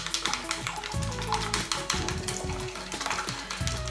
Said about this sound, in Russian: Размешиваем хорошо, чтобы не было комочков.